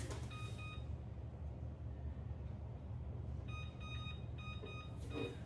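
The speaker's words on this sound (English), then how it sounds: "I'm gonna put a start timer on there for 20 minutes" Kitchen oven timer being set, giving a few short bright electronic beeps near the start and a quicker run of beeps near the end, over a low steady hum of the room.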